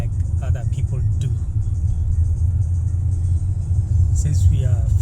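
A car drives the road from OR Tambo international airport to Pretoria in South Africa, with a loud, steady low road rumble inside the cabin throughout and brief faint voices now and then.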